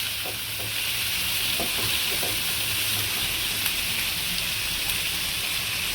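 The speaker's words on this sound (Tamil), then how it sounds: "இப்போ தக்காளி போடுறோம் இதையும் நல்லா வதக்கிக்கோங்க" Tomatoes for a chutney sauté in a pan, giving a continuous close sizzling hiss with occasional soft stirring scrapes.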